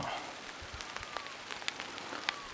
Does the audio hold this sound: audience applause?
no